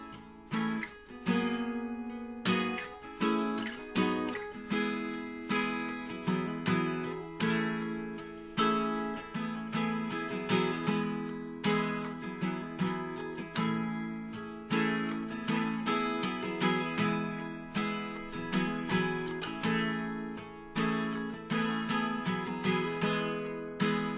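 An acoustic guitar strums the verse chords of a song in a steady rhythmic pattern, played solo at moderate volume with no voice.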